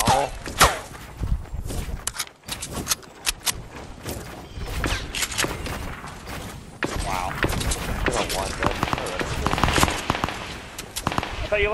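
Rapid bursts of gunfire crackle throughout a squad battle in a video game, sharp repeated shots with short pauses, heard alongside people talking.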